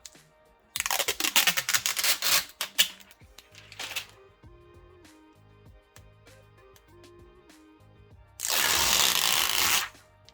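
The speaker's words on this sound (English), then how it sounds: "Let's just peel these off as well." Protective film peeled off a new keyboard case during an unboxing: two loud, close, tearing rips, one early and one near the end, with softer crinkles and light taps between.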